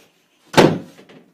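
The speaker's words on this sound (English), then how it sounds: "Don't slam the door." A single door slams shut nearby in a home, a sharp heavy thud with a short rattling decay, followed by a faint small knock, with no talking.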